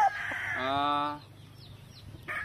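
A Super Sweater gamecock broodcock rooster gives a brief, close, harmonic crow-like call lasting under a second, then falls to quiet background with a short cluck near the end.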